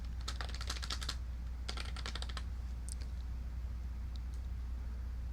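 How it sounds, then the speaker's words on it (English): Quick keystrokes on a computer keyboard in two short bursts while a code comment is typed, followed by a few faint isolated clicks over a low steady hum. "now if I type in my comment"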